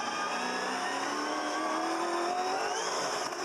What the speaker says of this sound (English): Comes a wheel spin. Listen to the wheel spin.